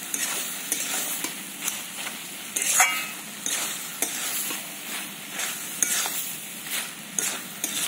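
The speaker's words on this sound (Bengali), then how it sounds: "সব কিছুর সঙ্গে ভালো করে আমি মিশিয়ে নেব।" Potatoes and peanuts sizzle in a pan with shredded cabbage as a spatula stirs them, giving repeated scraping strokes in a steady rhythm over a continuous close fry with no voices.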